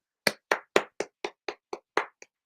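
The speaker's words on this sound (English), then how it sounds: "Round of applause" About nine slow, sharp hand claps from one person during a breakdancing crew interview, each crisp, evenly spaced and close, with silence between them.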